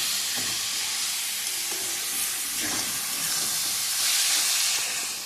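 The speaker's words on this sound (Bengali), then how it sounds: "এবারে নারকেল আর গুড়ের সঙ্গে মিলিয়ে আস্তে আস্তে করে ভাজবো" Grated coconut and jaggery frying slowly over low heat for nadu, giving a steady broadband sizzle and hiss with soft scraping stirs through it, close and continuous with no talking.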